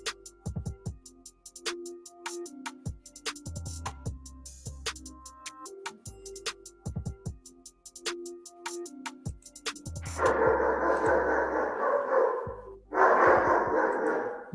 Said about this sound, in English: Sorry, my dog Bruce, he's a little bit as the young people say, extra